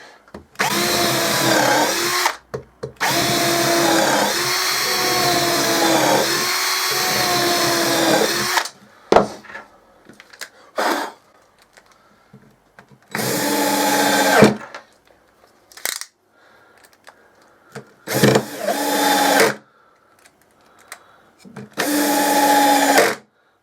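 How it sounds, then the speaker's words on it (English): A power drill runs in bursts: a long stretch drilling a countersunk hole, then several short whirring pulses of screw driving separated by pauses and quiet handling noises. "drilling a countersunk hole and then screwing a screw in"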